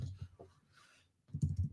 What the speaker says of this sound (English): Let me type that in over here.